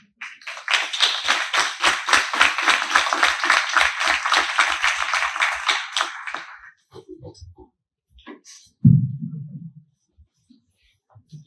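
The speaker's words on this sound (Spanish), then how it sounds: "les pido por favor recibimos con un aplauso" Audience applause at an architecture book presentation, a steady burst of many hands clapping for about six seconds, fairly close and full, then fading out before a brief low voice.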